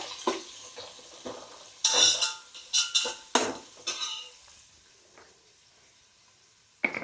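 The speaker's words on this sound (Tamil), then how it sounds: "நல்லா மிக்ஸ் பண்ணி விட்டுக்கோங்க எண்ணெயில்." Three medium onions stirred in oil in a pan with a metal spoon, a run of sharp clanks and scrapes in irregular bursts with a soft sizzle beneath, then a quiet stretch before one last clink.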